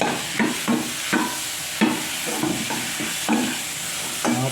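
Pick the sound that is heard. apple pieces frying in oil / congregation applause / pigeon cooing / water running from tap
apple pieces frying in oil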